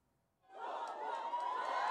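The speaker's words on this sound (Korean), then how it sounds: "지지자들의 환호 속에 등장한 조국 혁신당 대표가 총선 결과에 대한 기대를 내비칩니다." At a Cho Kuk Rebuilding Korea Party leader's entrance before a general election, a crowd of supporters cheers: quiet at first, then a sudden swell into sustained cheering and shouting that stays loud to the end.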